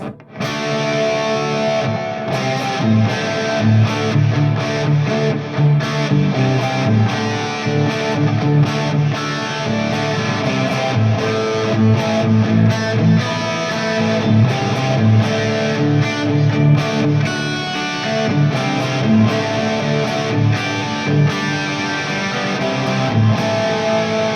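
Electric guitar played through an Oceans 12 dual stereo reverb pedal in Mix Edit mode, a sustained run of picked notes and chords with washy, lingering reverb tails, loud and continuous with no talking.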